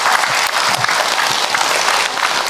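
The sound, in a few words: audience applause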